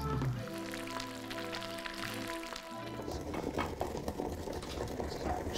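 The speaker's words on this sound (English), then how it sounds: "whilst those artichokes just finished frying" Steady bubbling and crackling of artichokes deep-frying in hot oil, close up, with a low humming tone fading out in the first few seconds.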